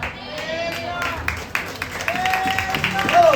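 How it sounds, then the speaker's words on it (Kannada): A church congregation at an Easter Sunday service claps hands together in a quick, irregular patter, mixed with voices and crowd noise that build toward the end. "ಚಪ್ಪಾಳೆ ತಟ್ಟಿ ದೇವರ ನಾಮವನ್ನು ಘನಪಡಿಸಿ."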